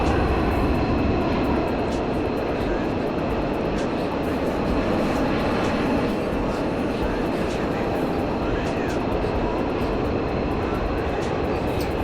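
Jet engine of a Dassault Mirage in the DCS flight simulator, a steady, loud, continuous roar with a broad low rumble and a thin high whine running unbroken throughout.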